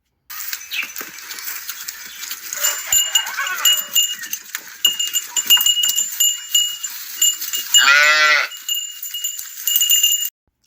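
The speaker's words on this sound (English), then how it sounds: "here comes the second farm animal I am recommending. That is goats." Goats bleat loudly over a steady, busy outdoor farm background in Kenya, one especially strong cry standing out near the end.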